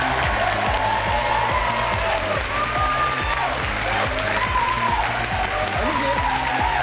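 A television studio audience applauds to welcome history teacher Cao Ruomei, the clapping blended with an upbeat rhythmic music cue that runs steadily underneath.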